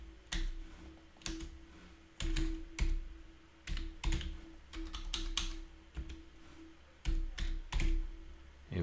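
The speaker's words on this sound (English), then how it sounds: "So let me type in a line of code." A computer keyboard on a 6502-based machine as a line of code is typed: irregular clusters of crisp, close keystrokes with short pauses between bursts, over a faint steady electrical hum.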